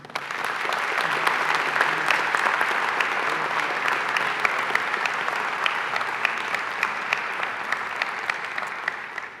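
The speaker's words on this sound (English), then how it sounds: "Let us give one more round of applause for this talented group of fine young men and women." Sustained applause from a crowd at a commencement ceremony, steady clapping filling the whole stretch with scattered sharper claps standing out.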